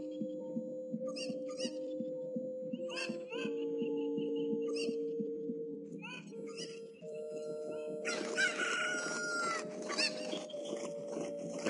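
Chirpy synthesized clucks from a chicken in the video game Zelda: Ocarina of Time, several short repeated calls over a tonal game music backdrop with no speech.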